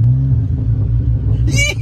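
A straight-piped Audi A3 engine gives off a deep, loud, close rumble that stays steady throughout, with voices talking over it.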